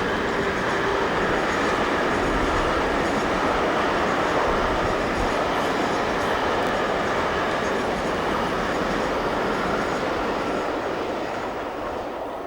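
Class 73 locomotive 73101, in unique livery on Orient Express duty, hauls a train past with a steady broad rumble and wheel noise. The sound stays continuous and loud throughout.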